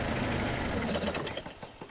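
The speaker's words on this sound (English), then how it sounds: "Sorry, Ted, I couldn't hear you with the engine on." A loud, steady engine drone from a cartoon vehicle, with a busy mechanical rattle that holds strong for over a second and then thins and drops away near the end as the engine is switched off.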